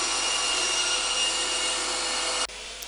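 A bandsaw cuts 22.5-degree bevels in wood boards with a steady, close, hissing whine that holds evenly, then drops off sharply near the end.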